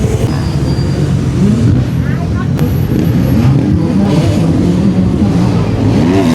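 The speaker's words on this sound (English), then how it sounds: "Let's go twist the throttle." A racing motorcycle engine at a championship finals event revs steadily as the throttle is twisted, a loud, continuous rising and falling drone close by, with muffled voices mixed into the dense noise throughout.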